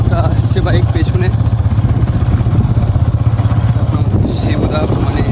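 A motorcycle carrying a rider and passenger on the way to a temple Dol festival, its engine thrumming steadily and close with road clatter throughout.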